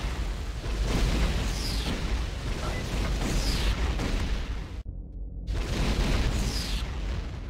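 Scorpion missile launcher blasts in a video game: sustained roaring explosions that fill the clip, broken by a brief silent gap before another loud rumbling burst.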